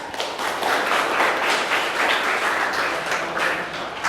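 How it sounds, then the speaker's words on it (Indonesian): Applause from an audience at the close of a university pharmacy faculty lecture: steady, dense clapping that continues throughout at a fairly loud, even level, with no speech over it. "Kasih aplaus untuk Sika."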